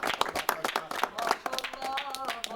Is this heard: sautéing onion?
no